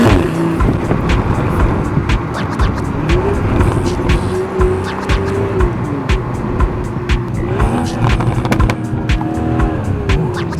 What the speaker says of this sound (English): you can hear the downpipe is really taking the exhaust note to another level